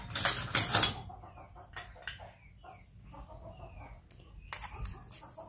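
Chopped pickled mustard greens are tossed in a bowl for a vegetarian stir-fry with tofu, giving close clinks and scrapes of utensils against the bowl, loudest in bursts at the start and near the end, with quieter stirring between and no talk.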